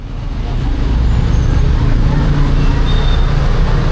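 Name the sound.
bus arriving to pick up passengers for Semeru trip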